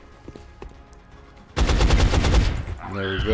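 A rapid burst of gunfire from XCOM: Enemy Unknown, loud and clattering for about a second, then a voice speaks briefly over lingering game ambience.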